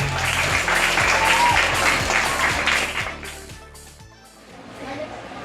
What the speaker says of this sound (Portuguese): Gente, palmas para o professor!